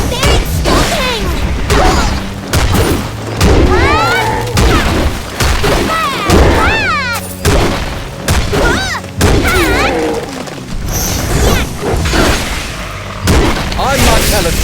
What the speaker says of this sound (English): They're exploding!